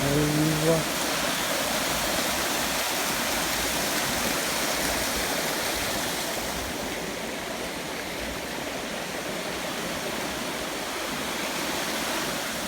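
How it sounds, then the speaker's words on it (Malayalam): A forest waterfall near a resort, heard from the top of the falls: a steady, full rush of falling water fills the whole stretch without a break, easing slightly toward the end. "ഇതാണ് നമ്മൾ പറഞ്ഞ വെള്ളച്ചാട്ടം"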